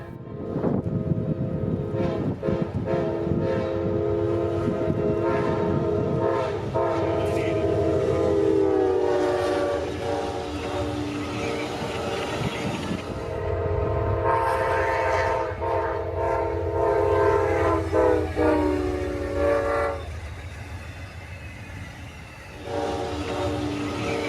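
Amtrak train 98 passes a railside spot in Folkston, Georgia, its loud horn blowing in long sustained blasts over the heavy rumble of the locomotive and cars rolling past close by.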